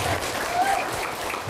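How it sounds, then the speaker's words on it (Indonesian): A crowd claps for five village head candidates at a joint campaign event in Dusun Rancabakung, Karangmekar, a brief, dense burst of applause. "Tepuk tangan bagi 5 calon ini."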